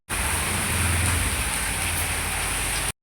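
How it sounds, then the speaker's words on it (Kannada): Heavy rain pouring steadily as people set out to a family birthday party, a dense, loud, unbroken hiss from start to finish. "ಬಟ್ ನೋಡಿ, ನಾವು ಹೋಗ್ತಾ ಇದ್ದೀವಿ ಅನ್ನೋ ಟೈಮ್ಗೆ ಎಷ್ಟು ಮಳೆ ಬರ್ತಾ ಇದೆ"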